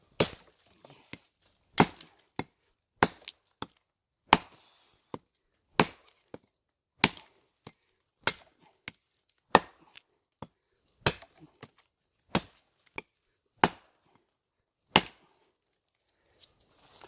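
Cold Steel Gurkha Kukri Plus knife chopping into spruce wood, a series of sharp, loud woody thwacks at an uneven rhythm of about one per second, with quiet gaps between strikes and no talking.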